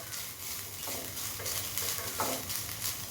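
A steady, close sizzle of lentils frying in a pan for thavala vadai batter, with faint scraping as they are stirred, and no voices.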